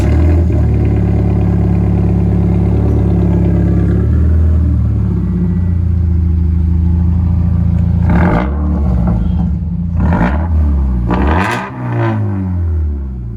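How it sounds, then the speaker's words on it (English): Toyota FRS engine with a muffler and resonator delete, straight-piped, starting fairly cold: a steady loud low idle rumble, then three sharp revs that rise and fall near the end. "Y'all just heard the muffler and resonator delete."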